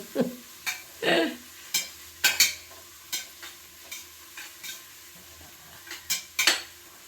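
Onions fry for a Mangalore-style mutton sambar, stirred in a pan with repeated scraping and clinking strokes of a metal spoon at an uneven rhythm over a faint sizzle, close and without talk.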